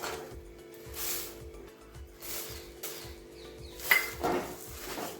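Puffed rice being mixed into cooked jaggery in a pan, with a rhythmic series of scraping and clinking spoon-on-pan strokes, close and fairly quiet, plus a couple of brighter knocks near the end.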